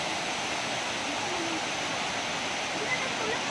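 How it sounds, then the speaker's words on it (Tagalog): Seven Falls waterfall pours in a steady, broadband rushing roar, constant and close, with no pauses or breaks. "Seven Falls."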